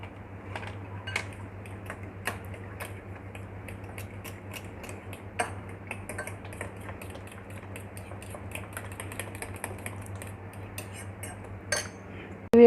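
Egg is stirred into potatoes in a bowl, a utensil clicking and tapping against the bowl in quick irregular strokes, light and close, with a low steady hum underneath.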